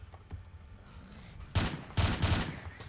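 Gunfire in the video game STALKER: Call of Pripyat, with a few faint shots followed by several loud, close bursts in quick succession, heard without talking.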